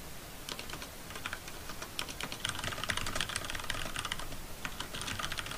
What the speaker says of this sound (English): I can't multitask typing and talking.